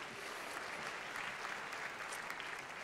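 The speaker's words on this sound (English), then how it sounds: "So a round of applause for you for coming out in the cold." Concert audience applauding after a percussion performance at Koerner Hall, a steady dense wash of many hands clapping at close range, continuous throughout with no break.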